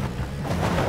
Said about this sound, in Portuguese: São explosões.